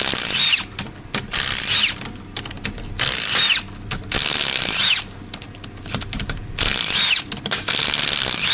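Ratchet wrench clicking rapidly while removing bolts from the carrier of a Ford Super Duty 6.0 Eaton rear differential, loud and close, coming in several bursts with short pauses between them.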